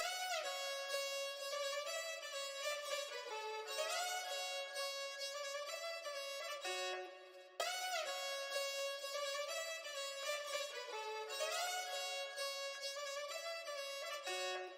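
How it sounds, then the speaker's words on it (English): A sampled violin phrase, pitched up, plays a bright legato melody of sustained bowed notes with clear harmonics, repeating after a brief pause midway, alone and fairly quiet with no voices. "for the next thing I had this violin phrase from Splice again"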